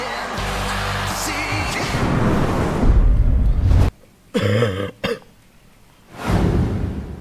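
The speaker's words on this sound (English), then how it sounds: "I'm so sorry for my cough, guys." A few harsh, close coughs break out after a stretch of noisy background from a WWE 2K16 wrestling video game match, short bursts with pauses between them, fairly loud.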